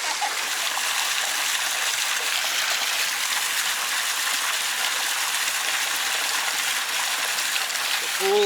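Steady rushing stream of water pours and splashes continuously into a newly relined swimming pool, loud and near, like a small waterfall cascading into a pool.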